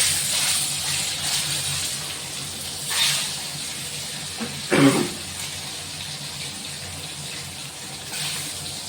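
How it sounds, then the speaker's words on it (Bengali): Eggs frying in hot oil in a wok: a steady, close hiss of sizzling, with a sharper crackling burst midway as the oil spits. "ডিমগুলো ভাজার জন্য দিয়ে দেব।"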